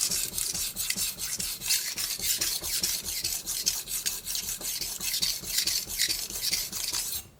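A kitchen knife is drawn across a Naniwa whetstone while chips are repaired, giving a steady, close rasping scrape with regular strokes, one after another, and no voices.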